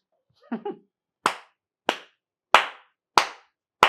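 Hands clap five times in a slow, steady rhythm, sharp and close, each clap ringing briefly. Before the claps come a couple of short soft sounds, and there is no other background noise.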